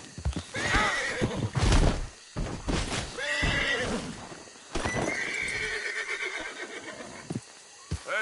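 In Red Dead Redemption 2, a horse gallops with quick clip-clop hoofbeats and lets out loud, drawn-out whinnies and snorts, close and clear, with no talking over it.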